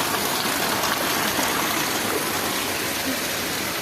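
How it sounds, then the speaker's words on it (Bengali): Heavy rain and rushing water fill a drain beside a house, a loud, dense, continuous gush and hiss heard close up with no break. "এত বৃষ্টি হচ্ছে"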